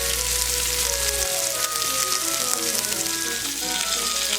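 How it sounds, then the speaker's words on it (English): A ribeye steak sears in hot grease in a cast iron pan, giving a loud, dense, continuous sizzle and crackle close by with no voices. "I've got a cast iron pan and I'm putting it in some hot grease for about 3 minutes. We're going to let it sear for 3 minutes."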